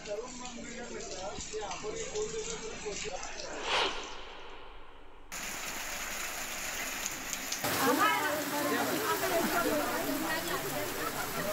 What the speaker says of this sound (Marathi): संध्याकाळी आणि रात्री पावसानं अक्षरशः झोडपून काढलं